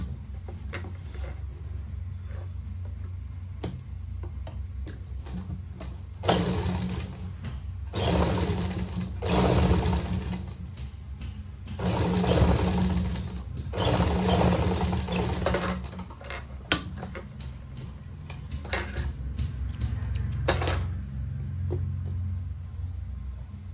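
Sewing machine stitching a seam along the neckline of a suit, heard in repeated bursts of rapid mechanical chatter with short pauses between runs, close and fairly loud with no talk.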